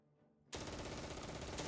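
A machine gun fires on an enemy squad in Close Combat 3, bursting in abruptly after a quiet moment as a continuous, loud rattling stream of rapid shots.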